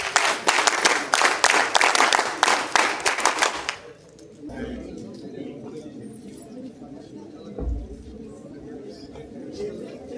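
Cadets applaud in unison at a National Cadet Corps camp, giving a rhythmic group clap of sharp regular strikes for about four seconds before it stops abruptly, leaving quiet room murmur with a few faint thumps.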